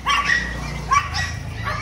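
Several dogs bark and yip close by in Siem Reap, Cambodia, overlapping in short bursts over a constant background hum.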